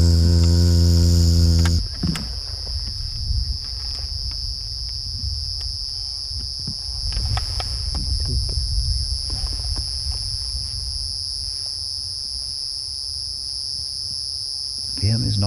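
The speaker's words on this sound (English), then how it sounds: "It sounds like a mole cricket, and it is therefore probably in a hole" A mole cricket calls steadily from a burrow on an evening safari drive, a continuous shrill trill running through the whole stretch over low vehicle rumble and faint background noise.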